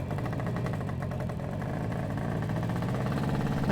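A 60-year-old restored classic motorcycle engine runs steadily in first gear, a close, continuous mid-pitched throb with a fine rapid pulsing and no talk over it.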